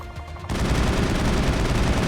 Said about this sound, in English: Kelly's got her shotgun at work.